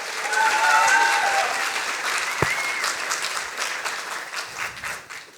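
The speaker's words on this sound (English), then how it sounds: "Big applause for Alice Podestà." Science slam audience applauds as a speaker takes the stage: sustained, full clapping from a sizeable crowd that gradually thins and fades, with brief talk mixed in early and a single loud knock partway through.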